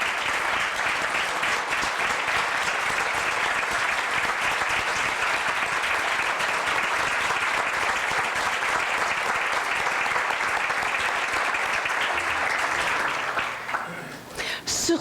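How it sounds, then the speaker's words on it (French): An audience in a regional economic forum hall gives sustained applause to elected officials, a dense steady clapping that carries for about thirteen seconds before thinning out and fading near the end. "puis on va les applaudir parce qu'ils n'ont pas un travail facile."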